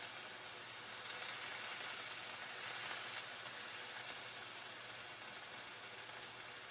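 Deer burgers sizzling in a pan, a steady bright crackling hiss with a low hum underneath, constant and close throughout with no talking.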